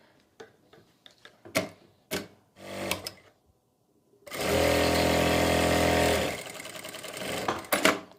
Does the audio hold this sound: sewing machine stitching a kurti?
yes